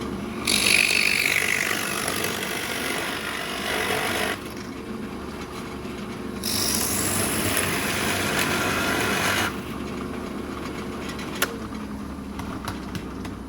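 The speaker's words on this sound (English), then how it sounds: "keep your hands away from that Forstner bit because it's very powerful." Powerful Forstner bit hollowing out the wooden body of a ringneck drake duck decoy, giving two sustained bursts of close, loud grinding and rubbing with quieter gaps between.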